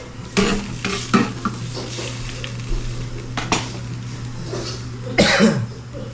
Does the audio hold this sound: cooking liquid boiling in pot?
yes